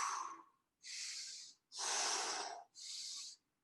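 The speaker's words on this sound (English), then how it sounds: "Keep breathing." Heavy, forceful breaths during an exercise workout come in four rough bursts, with sharp hissing exhales and snorting inhales, close and fairly faint.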